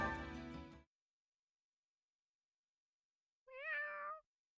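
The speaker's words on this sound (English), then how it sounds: "I was looking away and then I heard meows during the load screen." A house cat meows in two separate bursts: a loud, harmonic-rich cry at the very start, then after a long silence a second, clearer tonal meow with wavering pitch, close to the microphone.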